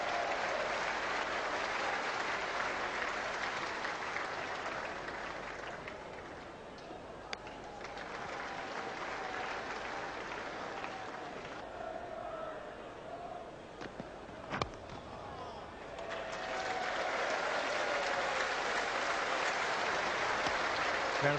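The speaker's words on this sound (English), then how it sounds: "Round of applause for the England batting lineup." Applause from a cricket crowd at an Australia versus England Test match in 1998 for the England batting lineup, heard as a sustained wash of clapping from a large, distant crowd that swells, dips briefly and rises again.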